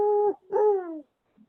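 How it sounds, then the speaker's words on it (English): A great horned owl gives deep hoots, one steady note followed by a longer falling hoot and a faint short final note, clear and alone against silence. "And we also have the great horned owl,"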